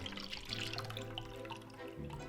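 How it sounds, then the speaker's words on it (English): Chicken broth juice left after separating the meat is poured into a bowl, making a soft, steady trickling and splashing of liquid that stays close and continuous, with faint background tones beneath it. "Pour the juice into a bowl."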